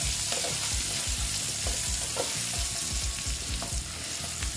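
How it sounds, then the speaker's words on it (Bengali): Potato pieces dusted with turmeric fry in hot oil, a loud continuous sizzle broken by regular scraping strokes of a spatula stirring the pan, with no voices. "আমার মোটামুটি আলু ভাজাটা হয়ে গেছে"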